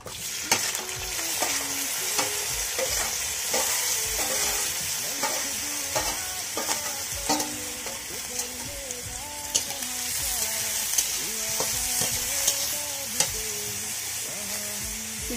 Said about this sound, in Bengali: চিংড়ি মাছগুলোকে হালকা ভেজে নেবো আমি